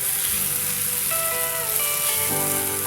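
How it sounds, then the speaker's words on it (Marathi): Tomatoes frying in oil in a pan for egg masala, a steady close sizzle with a bubbling hiss running continuously and no voices. "याला बी मस्त पा तेल सुटेपर्यंत फ्राय करून घेऊया"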